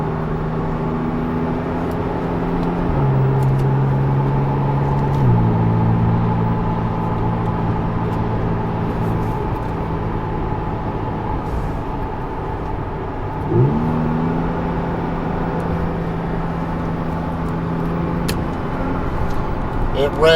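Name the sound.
Porsche 911 Turbo S engine revving and shifting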